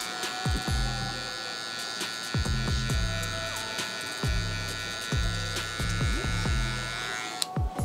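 Hair clippers with no guard and the lever open detail a high taper haircut, cutting with the corner of the blade: a steady close electric buzz, with repeated short strokes where the pitch dips as the blade bites into the hair.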